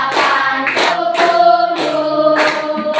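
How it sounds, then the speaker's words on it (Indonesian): A group sings the patriotic song Garuda Pancasila, and sharp hand claps land every half second or so on top of the loud singing. "Sambil tepuk tangan."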